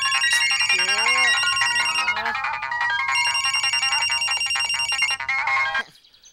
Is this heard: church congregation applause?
no